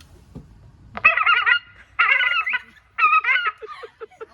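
Loud harsh herring gull screams from a recording played back at an airport, three drawn-out bursts followed by a string of short clipped calls, clear against a quiet background.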